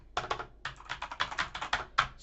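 Fast bursts of typing on a Sandberg Hailstorm gaming keyboard, crisp close keystrokes in quick clustered runs with short pauses between, no voices.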